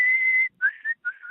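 A person whistles a tune in three clear, close phrases: one long held note, then two shorter wavering ones.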